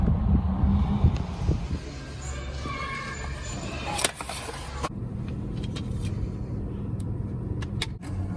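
A sedan drives east out of Saskatchewan on a Canadian highway, its steady road and engine rumble filling the cabin throughout, with a brief clunk midway and a few faint clicks later; no one speaks.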